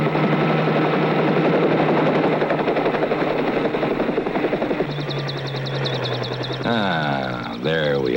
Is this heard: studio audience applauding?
no